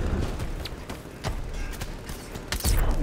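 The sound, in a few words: gunfire shooting at player in video game Batman Arkham Knight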